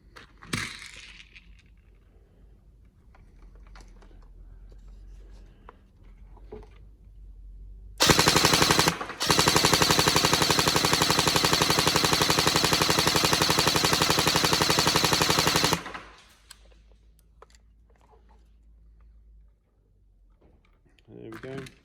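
A G&G GK12 AEG airsoft gun is test fired in a workshop: after quiet handling noises, one loud rapid full-auto burst rattles for about a second, then a short pause and a second sustained burst of roughly seven seconds, then quiet clicks and handling.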